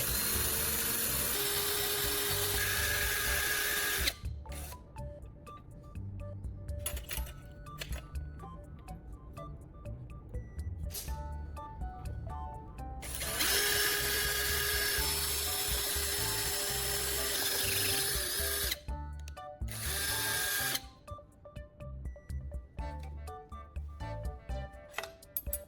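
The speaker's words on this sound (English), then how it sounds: "I use a drill to make a hole at the marked position on the plate." A power drill whirs in long bursts with short pauses between, boring a hole in a plate, a grinding mechanical sound close by with no talking.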